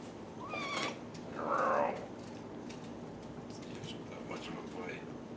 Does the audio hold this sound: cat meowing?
yes